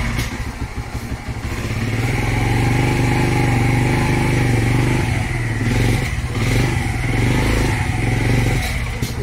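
A Yamaha YBR motorcycle engine fitted with an alternative CDI unit starts up and runs at a steady, loud idle with a few small rises in revs, close by and with no talking.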